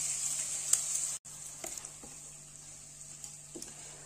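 Rice that was washed, soaked 20-25 minutes and drained, tipped into a hot pan, giving a steady soft sizzle with a short break and faint stirring crackles, close and alone.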